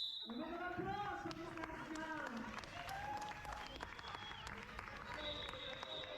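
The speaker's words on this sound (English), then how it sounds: "A round of applause for this last jump." A crowd at a roller derby bout applauds steadily throughout, a dense wash of clapping with cheers, whistles and a public-address voice rising over it.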